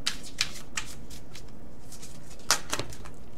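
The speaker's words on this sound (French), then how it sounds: "Je vais tirer 2-3 cartes." Oracle cards are shuffled and drawn by hand, producing sharp riffling bursts: several quick swishes early, then a pause, then a couple more louder flutters near the end. The sounds are close and clear with no talking.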